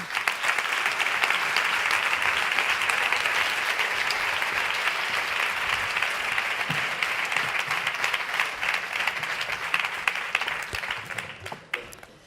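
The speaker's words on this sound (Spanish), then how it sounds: "Un aplauso." An audience at an International Women's Day event applauding as panelists come to the stage, a long, dense burst of clapping that thins out and fades toward the end.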